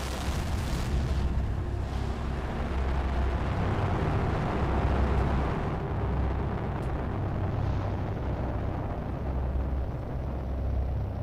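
A rocket launching in the survival game Planet Crafter gives a steady, loud, broadband roar that rumbles continuously throughout without any talk.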